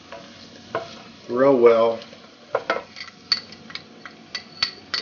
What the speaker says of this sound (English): And I want to stir that in